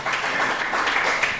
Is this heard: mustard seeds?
no